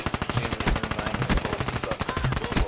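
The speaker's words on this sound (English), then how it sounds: "We just kept firing at each other." Sustained automatic gunfire from the shooter game Black Ops 3 on PC rattles in a dense, rapid rhythm, loud and close, with the shots overlapping continuously throughout.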